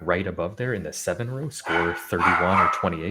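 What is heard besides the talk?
dog barking in the background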